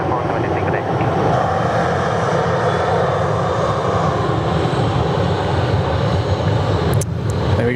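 An Airbus A350 airliner at Sydney Airport gives a loud, steady jet engine roar that fills the whole stretch with broadband rumble and hiss, heard close and without a break.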